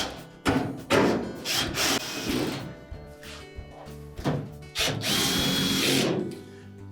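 Power drill driving screws into a Whirlpool dryer during repair, close and fairly loud: several short whirring bursts separated by pauses, with rubbing and handling noises between them.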